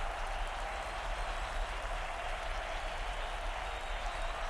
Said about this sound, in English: this Richmond crowd is going wild